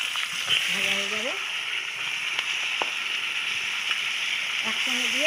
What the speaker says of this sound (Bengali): ফুলকপিটা দিয়ে দিচ্ছি,